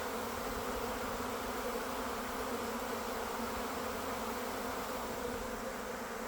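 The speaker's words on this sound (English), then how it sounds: "all the bees that I took out of the other one have immediately went over and invaded my existing hive." A honey bee swarm invading an existing hive makes a dense, continuous buzzing drone, loud and unbroken throughout.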